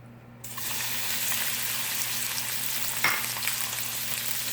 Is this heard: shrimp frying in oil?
yes